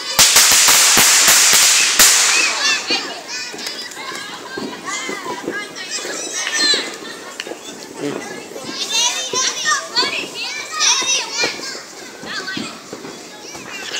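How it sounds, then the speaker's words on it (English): A rapid volley of sharp firework cracks bursts loudly at the start of a Fourth of July display, then gives way to excited children shouting and chattering close by. "Great fireworks."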